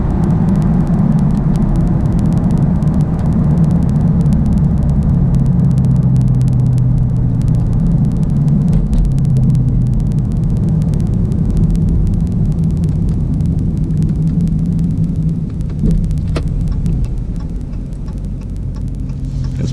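A 2016 Dodge Charger Scat Pack with an 8-speed automatic rumbles steadily from inside the cabin, engine drone rising and easing through gear changes, loud and continuous with no voices.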